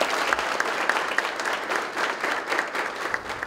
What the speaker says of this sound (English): Let's give Coach Chaney a round of applause.